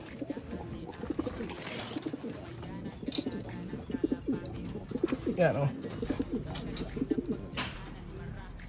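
Racing pigeons coo softly and repeatedly nearby, low rolling calls under a person's brief spoken words.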